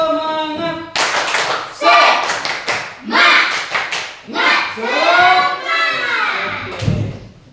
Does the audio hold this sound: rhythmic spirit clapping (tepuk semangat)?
yes